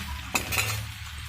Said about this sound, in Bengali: আর একটু নাড়িয়ে চাড়িয়ে কষিয়ে নেব।